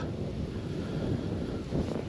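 Strong wind buffets the microphone in a steady, rough roar, with faint water sounds behind it, while fishing at a pond in autumn.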